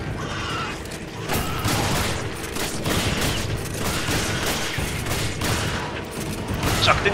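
Shotgun blasts and weapon mechanisms in Resident Evil 5, a dense run of gunfire with clicking, ratcheting reload sounds amid loud game action throughout.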